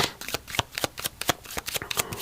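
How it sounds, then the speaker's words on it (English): Smith-Waite tarot cards are shuffled vigorously up close in a quick run of crisp riffling snaps and flutters, quiet and alone. "Make sure I shuffle it really good"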